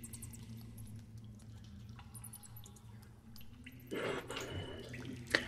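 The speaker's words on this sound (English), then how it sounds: "water drips from overhead." Water dripping from overhead in a dank underground space, sparse drips over a low steady ambient hum, with a louder splashing burst near the end.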